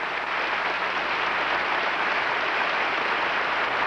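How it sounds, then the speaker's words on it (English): A large arena crowd applauds gymnast Li Ning at the 1986 World Cup men's all-around, a dense, steady wash of clapping that holds at full strength throughout. "Li Ning takes some well-deserved plaudits from the crowd"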